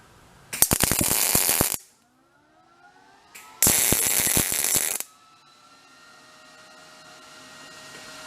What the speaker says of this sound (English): I'm gonna go grab the welder, drag that over there, and see what we make out.